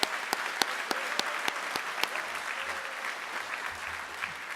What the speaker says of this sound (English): I'll give a round of applause for Coach Dant